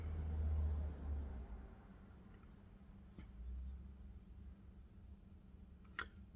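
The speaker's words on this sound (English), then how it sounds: "There's a noisy car going up the road." Noisy car going up the road outside, a low rumbling engine swelling and fading at a moderate distance, with a brief tick and a faint sharp sound near the end, no talk.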